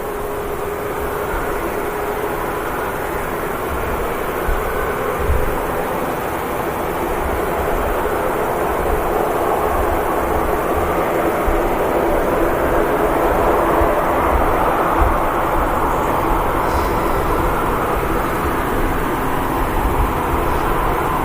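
A Ryanair airliner arrives at Manchester Airport. The jet roar is loud and continuous throughout and swells slightly as the plane comes nearer, with no voices over it.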